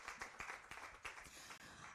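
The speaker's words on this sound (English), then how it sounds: "A round of applause, please, for Nedbank." A workshop audience applauds the sponsor Nedbank at a Female Economy Workshop and Expo, with steady, fairly faint crowd clapping and scattered sharper claps throughout.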